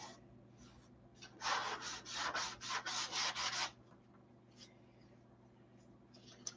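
Wood being sanded by hand with sandpaper, a burst of about nine quick, steady back-and-forth scrubbing strokes, close and fairly loud, then quieter scattered rubbing against a low steady hum.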